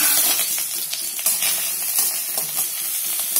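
Onions frying in coconut oil in a pan give a steady, close sizzle with scattered scraping stir noises and light clinks throughout, no voices.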